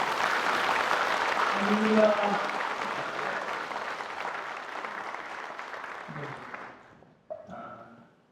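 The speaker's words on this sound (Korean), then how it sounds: "다시 한번 영광의 박수를 보내드립니다." A congregation at an Easter union worship service claps in a dense wave of applause that gradually fades out, with a voice speaking over it near the end.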